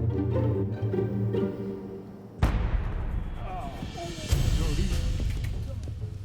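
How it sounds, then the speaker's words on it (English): A controlled explosion set off to clear dangerous avalanche snow, a sudden loud blast that rumbles on with a long echoing tail, followed by a second, smaller boom. "One way to keep us humans out of harm's way is to clear any dangerous snow caps with a controlled explosion"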